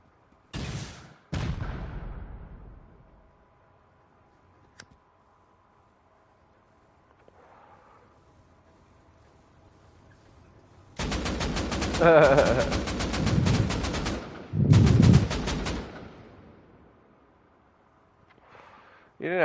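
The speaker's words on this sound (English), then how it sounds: "you want to stop shooting the AK?" Bursts of automatic AK rifle fire in the survival game Rust, a couple of loud, dense volleys clustered close together, with brief sharp shots earlier and quieter stretches between.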